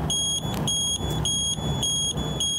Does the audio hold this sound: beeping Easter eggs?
yes